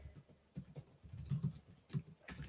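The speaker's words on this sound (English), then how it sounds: "Sorry if my typing sounds so loud." Typing on a computer keyboard picked up by a new microphone, close and fairly loud clusters of key clicks in irregular bursts with brief pauses, no talking.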